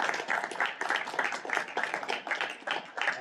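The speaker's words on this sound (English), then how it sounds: "that's an incredible accomplishment that deserves a round of applause" Audience applause at a school board meeting honoring volleyball teams: a steady, moderately loud wash of many hands clapping, with sharp individual claps flickering through it for the whole stretch, and a faint voice underneath.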